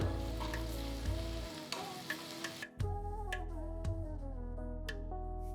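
Onions with ginger-garlic paste and chopped tomato sautéing in a pan for a Rayalaseema pulagam peanut chutney, a steady close sizzle with a few stirring taps and clicks, no one talking.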